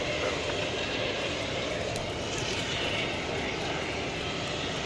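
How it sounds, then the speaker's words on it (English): An American Airlines Airbus A321 bound for Portland, Oregon takes off from DFW airport at night, a broad, steady roar of jet engines filling the whole stretch at constant strength, distant but powerful, with no voices over it. "American Flight 2567 to Portland, Oregon, and Airbus A321 has just been cleared for takeoff."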